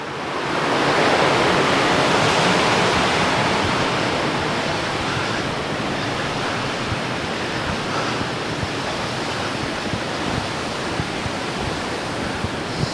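River water rushes and churns near a cave entrance, a dense steady roar that swells slightly at the start and then holds evenly, close and without voices.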